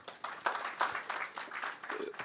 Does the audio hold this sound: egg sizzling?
no